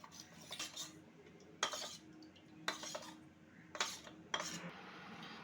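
Cornflour and salt are mixed with a little water into a thick batter for vegetable chops, a spoon clinking against the bowl in about five soft, close strokes with quiet stirring in between.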